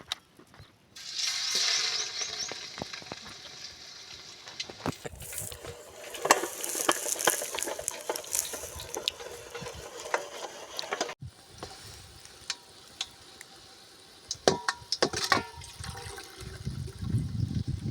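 Potato spring rolls frying in hot oil, a steady bubbling sizzle with crackles and occasional stirring clatter, growing louder and busier as they cook.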